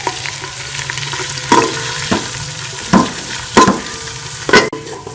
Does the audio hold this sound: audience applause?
no